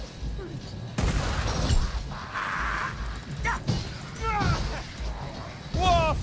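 Gunfire in the video game Vermintide 2, with bursts of shots and impacts amid busy game noise and occasional whooshing effects, moderately loud and sustained.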